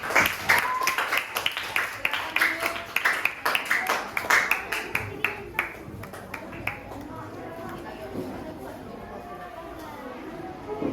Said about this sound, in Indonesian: Tepuk tangan untuk kelompok Kenan